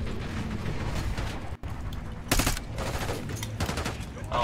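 Sustained automatic gunfire in the Call of Duty: Black Ops 6 campaign, loud and continuous bursts with a brief gap and sharper cracks, close and dominant over faint talk.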